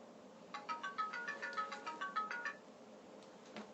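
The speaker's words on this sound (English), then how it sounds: "My phone keeps going off." A mobile phone ringing, a repeated chiming melody of about a dozen quick tones over two seconds, moderately close and clear, followed by a faint blip.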